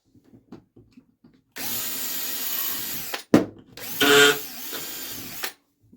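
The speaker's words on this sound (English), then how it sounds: "Maybe I gotta drill it out better." A power drill whirs in two bursts while working on a 1981 Gottlieb Mars God of War pinball machine, the first steady for about two seconds, then a short clunk before a second higher-pitched run; otherwise quiet.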